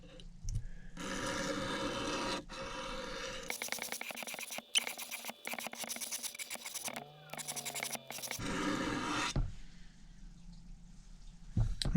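Rhythmic scraping of a knife blade drawn across a clamped sharpening stone while restoring an old Imperial Barlow pocketknife, the strokes coming in steady bursts with brief pauses between, close and fairly loud.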